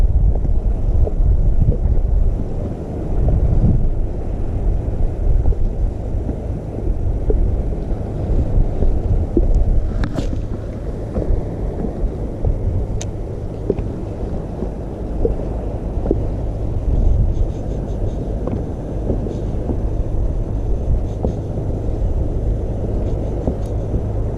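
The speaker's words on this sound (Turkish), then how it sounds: "Bu tekne geçti geldi bu tarafa doğru" A steady low rumble of a fishing boat engine passing by on the water, with wind buffeting the microphone throughout.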